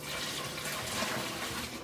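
Steady splashing of hot water being poured over a can lid for home brewing, a continuous soft rushing and trickling close by, with no voices.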